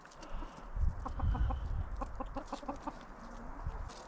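Isobrown chickens and their roosters cluck close by in a farmyard. Several birds give rhythmic, repeated clucks in loose clusters over low rustling, and no voices speak.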